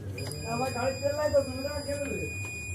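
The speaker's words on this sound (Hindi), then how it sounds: "रेजिस्टेंस से बीप साउंड हो रहा है" A faulty Intel H61 desktop motherboard on a repair bench gives off a steady electronic beep from a resistor, heard faintly under a man's continuous speech.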